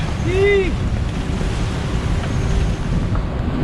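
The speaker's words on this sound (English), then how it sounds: "It's always super rough, and like you can see, we're taking a bit of weather." Rough seas and strong wind roar around a sailboat in heavy weather off the Cape Verde islands, a continuous loud wash of wind and surf with a brief whistling tone near the start.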